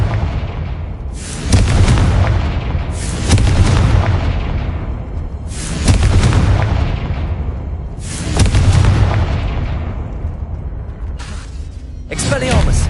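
Confringo spell blasts in Hogwarts Legacy: five loud booming explosions spaced a couple of seconds apart, each with a long rumbling decay, ending in a sharper burst.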